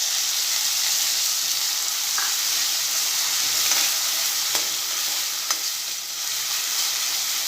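Onion paste sautéing in a pan for a green garlic curry, a steady close broadband sizzle with occasional soft scrapes and clicks from stirring throughout, no voices.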